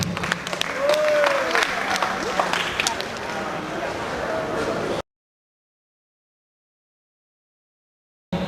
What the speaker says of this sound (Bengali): জোরে করতালি দেওয়া।